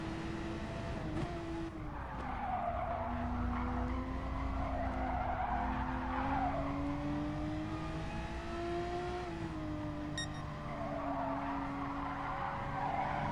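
A race car in Gran Turismo Sport on PS4 spins out during a manufacturers series race, its tires squealing and skidding continuously over a droning, shifting engine note, loud and close.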